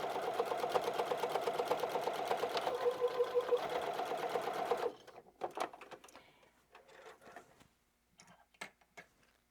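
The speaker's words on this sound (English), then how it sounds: "I do recommend that you back stitch on this when you start and stop." A sewing machine stitches the corners of a fabric basket made from 10-inch squares, running in a fast, even rattle for about five seconds before stopping, followed by scattered quieter handling clicks.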